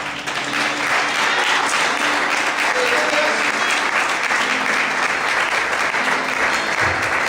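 A church congregation applauds loudly during a Portuguese-language service, producing a dense, continuous wash of clapping that holds steady for several seconds and fades slightly near the end.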